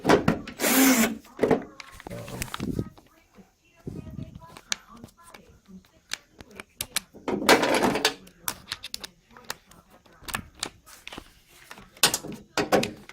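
Hand tools work on the door of a 1957–59 Mopar car, loosening the large bolt that holds the vent window with a 1/2-inch socket wrench: scattered metallic clicks, ratcheting and knocks, close by, with bursts of handling noise between.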